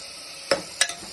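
Ground masala paste, earlier fried in oil, spooned into a hot pan for paneer gravy: two short, close sizzling bursts about a third of a second apart over a low steady background hiss.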